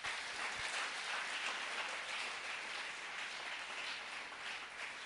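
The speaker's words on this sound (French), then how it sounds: "On acclame le Saint-Esprit." A church congregation applauds to acclaim the Holy Spirit, a steady, even wash of many hands clapping together, sustained and fairly faint from start to finish.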